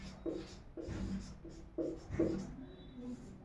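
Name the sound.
writing out a Hindi grammar definition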